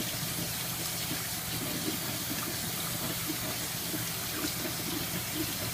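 Tap water runs in a steady, broad hiss, splashing continuously into a sink while vegetables are washed, without pause.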